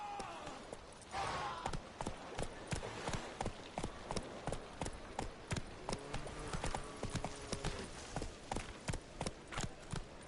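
Roach the horse galloping in The Witcher 3, rapid rhythmic hoofbeats pounding steadily and close, with a brief rider's call at the start.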